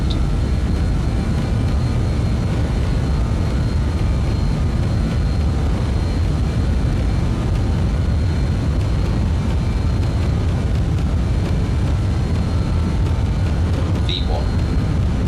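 A four-engine airliner in Microsoft Flight Simulator 2020 runs at takeoff power on the runway. The engine roar is loud, steady and low-pitched throughout, and a voice speaks over it.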